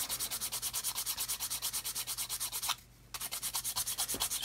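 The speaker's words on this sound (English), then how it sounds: "So just sand off that." A coarse sanding stick scrubs steadily over a workpiece in quick repeated back-and-forth strokes, close and fairly loud, with one short pause partway through.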